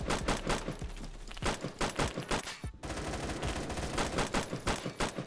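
Rapid gunfire in the Phantom Forces video game, with dense, overlapping bursts of shots at a fast rhythm that keep going loudly for the whole stretch, apart from one brief break near the middle.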